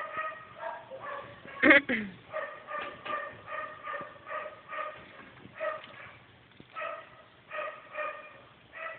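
A dog at an animal shelter, Refuge de Brax, barks repeatedly in a steady series of moderate yaps, with one sharper louder bark early on, heard from a short distance.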